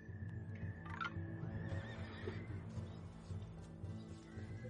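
Horses neigh and whinny in the Battle Realms strategy game, several bright calls rising and falling over a steady low game hum, fairly clear but not loud.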